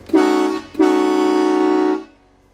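Two loud horn blasts from a Jeep Ecodiesel Rubicon, a short first toot followed by a longer sustained blare of just over a second, close and alone.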